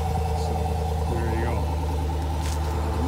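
A Chevrolet Silverado Trail Boss pickup with dual exhaust idles steadily close by, a low rumbling drone holding constant for the whole stretch.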